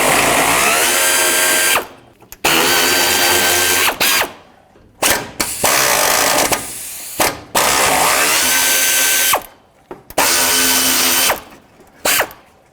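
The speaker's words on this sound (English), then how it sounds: "The next thing I want to do is remove these 4 10mm bolts." A power ratchet spins out the four 10mm radiator support bolts on a 2002-06 Toyota Camry, loud whirring bursts of a second or two separated by short pauses, close up and without talk.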